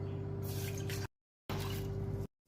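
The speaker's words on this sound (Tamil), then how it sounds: "பாத்திரத்தில் 1 கப் தண்ணி சேர்த்துக்கிறேன்." Water from a cup pours into a cooking vessel while gummies are being made, two steady rushing bursts about a second each, separated by a short silence, close and alone.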